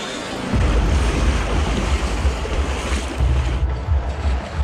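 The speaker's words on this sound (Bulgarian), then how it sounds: "Пуснаха водата, хора," A river surges after water is released upstream at a trout-fishing spot, a loud, steady broadband rush of current with wind buffeting the microphone throughout, no voices.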